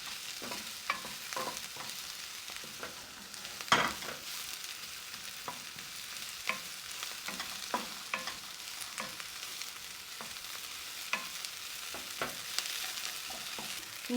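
Chopped onion and vegetables fry and get stirred in a hot pan while Gobi Manchurian is cooked. A steady close sizzle runs throughout, broken by occasional spatula scrapes and clinks.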